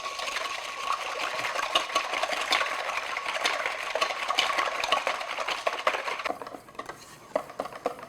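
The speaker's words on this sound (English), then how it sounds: "I'm just going to whisk it by hand until stiff peaks" Heavy cream flavored with vanilla, whisked by hand toward stiff peaks for chantilly cream: a continuous rapid scraping and clicking of a whisk against a bowl, steady and close, softening near the end.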